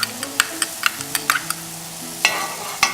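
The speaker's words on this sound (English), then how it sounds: "Just as the onions have started to soften, we want to get the chilies into the mix" Chilies tossed into softened onions frying in a pan with oil, a soft sizzle beneath a series of sharp scraping and clinking spoon strokes, close and moderately loud.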